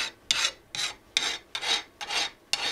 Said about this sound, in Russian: Грубые следы от болгарки я выровнял напильником